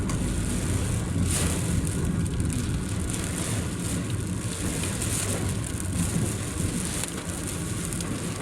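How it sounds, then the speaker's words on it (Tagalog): Heavy rain pours down in a steady, dense hiss with gusting wind, loud and unbroken throughout, no voices. "Parang binubuhos yung parang binubuhos yung ulan."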